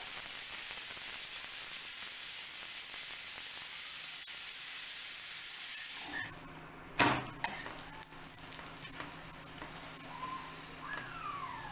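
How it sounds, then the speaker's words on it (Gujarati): Steady close sizzle of millet flatbread roasting with ghee on a hot griddle, continuous for several seconds, then dropping to quieter crackles with a few sharp knocks and scrapes. "સરસ ડિઝાઇન આવી જાય ત્યાં સુધી આપણે શેકીશું"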